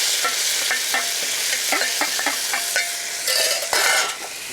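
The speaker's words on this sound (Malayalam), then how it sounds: "കടുക് പൊട്ടിക്കഴിയുമ്പോൾ 10 പച്ചമുളകും 5 വറ്റൽമുളകും 2 തണ്ട് വേപ്പിലയും കൂടി ഇടാം" Mustard seeds, green and dried chilies and curry leaves fry in coconut oil for a Kerala puli inji, with steady close sizzling and sharp popping crackles from the seeds, stirred in the pan with no talking.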